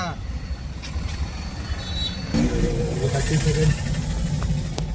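Heavy road traffic in Tamil Nadu rumbles steadily, a continuous mix of car and bus engines passing close by, with a brief tonal horn or squeal partway through and no pause in the noise.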